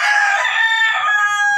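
A rooster, likely a gamecock being conditioned, crows once in a single sustained call, close and loud, with no other sound around it.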